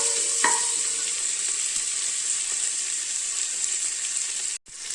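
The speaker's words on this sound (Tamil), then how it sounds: "வெங்காயம் தக்காளியெல்லாம் நல்லா வதங்கி வருதுங்க." Onions and tomatoes sauté in a pan, giving a steady close sizzle with a faint stirring scrape early on, continuous throughout and no voices.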